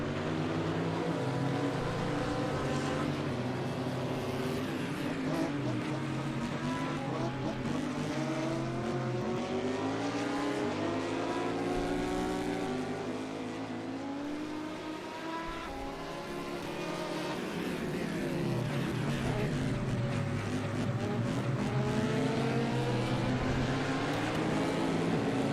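Race cars circulating slowly around Daytona under caution, engines droning continuously with wavering harmonic tones as they weave to warm their tires, a steady mid-distance rumble with no talk.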